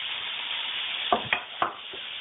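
Chopped onion hitting a hot pan: a steady bright sizzle with a few clattering knocks as the pieces go in, fairly quiet and without talk.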